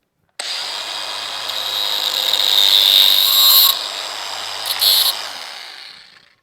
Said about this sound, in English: So let me grind the tabs off